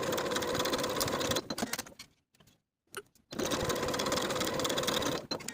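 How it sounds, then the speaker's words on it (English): A sewing machine stitches shoulder seams at a 5/8 inch seam allowance, a loud, fast steady whir in two runs with a short near-silent pause between them for repositioning the fabric. "Then sew your shoulder seams with your 5/8 inch seam allowance."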